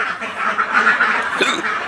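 Ducks in a winter duck shed quack loudly and close by, with rapid repeated calls that overlap in a continuous chorus.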